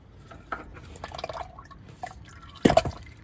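Old engine oil drips from the sump of a Citroen C1 into a catch pan during a DIY service: a few soft, irregular drips, then one louder splattering drop near the end, close by with no voices.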